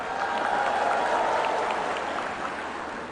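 Sustained applause and cheering from a large crowd at a government event in a sports hall in Toware, a continuous roaring wash of clapping and voices, steady and loud throughout.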